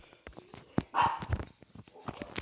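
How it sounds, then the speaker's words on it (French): A dog barks indoors in a few short, uneven bursts, close by, mixed with scattered knocks and footstep-like thumps. "il y a mon chien qui aboie"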